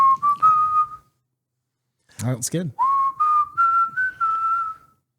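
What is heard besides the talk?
person whistling a song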